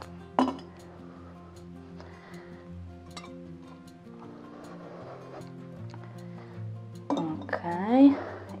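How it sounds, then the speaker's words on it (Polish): Small purple glass lanterns clink and tap faintly now and then as they are handled indoors, with a brief sharper knock near the start and a louder clatter at the end. "Mamy takie małe, fioletowe, szklane lampiony."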